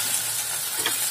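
Powdered spices such as turmeric, coriander and cumin fry over medium heat in a pan of masala for matar paneer, a close, steady sizzle with faint stirring scrapes throughout.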